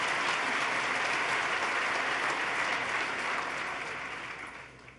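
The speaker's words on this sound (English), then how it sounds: "Let's give her another round of applause" A large audience at a governor's State of the State address breaks into dense, steady applause that holds loud and even for several seconds, then gradually tapers off toward the end.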